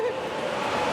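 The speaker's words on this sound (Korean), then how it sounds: "물은 안 보이고, 물소리만 저 밑에서 들리니까 더 겁나잖아" A steady, broadband rush of water far below in a cave, distant and hollow-sounding, continuous throughout with no breaks.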